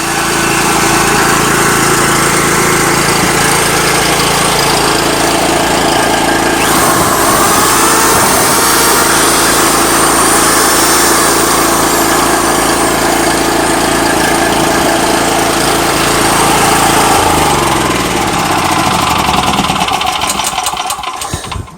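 A gas generator, started with one pull after sitting for two years, runs loud and close with a steady buzzing engine drone that shifts in pitch partway through before cutting off at the end.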